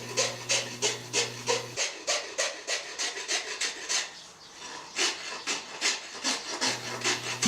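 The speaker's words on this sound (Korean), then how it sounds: "빅토리아 호수 근처의 밀림에서 날아온 사펠리를 갈아주는데요" A rasp scrapes back and forth across a sapele wood ukulele neck in quick rhythmic strokes, close and loud, with a brief pause midway before the strokes resume.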